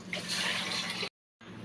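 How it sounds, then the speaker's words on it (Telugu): Water poured into a pot of chicken biryani base, a bright steady splashing stream that stops abruptly, then resumes faintly after a short silence. "వాటర్ పోసుకుంటున్నామండి"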